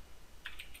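A few quick keystrokes on a computer keyboard, three or so soft clicks spaced close together near the end, faint and isolated in a quiet room.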